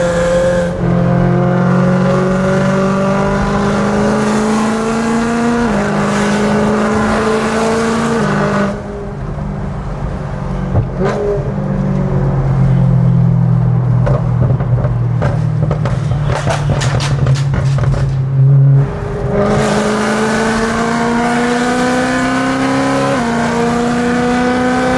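Open-top car driving on Mumbai roads with its engine loud and close, pitch climbing through gears in stepped sweeps, briefly easing mid-way with crackles before pulling strongly again.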